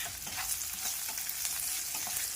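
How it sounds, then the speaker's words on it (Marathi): Onions with a pinch of salt sautéing in a pan for matar paneer masala sizzle softly and steadily, with light stirring scrapes, close and alone. "सुरुवातीला कांदा परतून घ्यायचा व्यवस्थित आणि मग टोमॅटो टाकायचा।"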